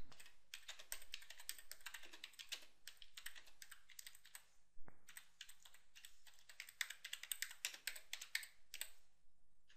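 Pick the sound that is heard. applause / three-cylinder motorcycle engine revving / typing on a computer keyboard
typing on a computer keyboard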